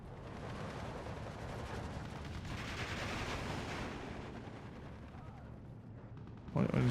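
Mortar and artillery fire rumbles through a Steel Division 2 battle, a dense wash of distant booms and crackling gunfire that holds steady, with a sharper blast near the end and a voice talking over it.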